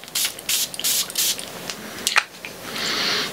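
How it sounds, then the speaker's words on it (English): Several quick hissing bursts of a perfume atomizer spraying fragrance, close and fairly loud, with short pauses between them and a longer soft spray near the end. "Do I spray this? Let's spray this."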